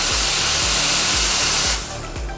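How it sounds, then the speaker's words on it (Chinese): An espresso machine's steam wand froths whole milk with a loud, steady hiss and faint rhythmic low pulsing, the noise easing slightly near the end. "发泡的时候，我还听到那个滋滋滋滋的声音，"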